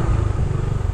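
Motorcycle engine running nearby, a steady low rumbling drone with slight fluctuations and a faint clatter, with no voices.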